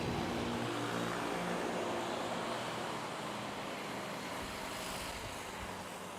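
A Cebu 562 airliner taking off from runway 06 at Manila airport, a broad steady jet roar at moderate distance, sustained and slowly fading.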